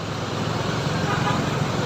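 Heavy traffic fills a road tunnel at a crossing, a dense, steady low roar of engines and tyres echoing all around without a break.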